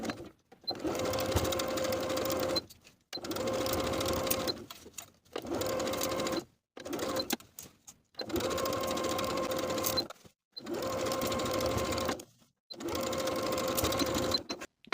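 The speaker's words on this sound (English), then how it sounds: "Sew the waistband to the top of the pant all the way around from center front to center front with a 3/8 inch seam allowance." A sewing machine stitches a waistband onto the top of a pair of pants in seven steady bursts, each a few seconds of close, even whirring separated by brief pauses.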